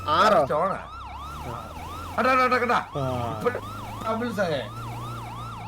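A vehicle siren wails in a steady rising-and-falling cycle, loud and close, running almost the whole time while several voices talk and call out over it.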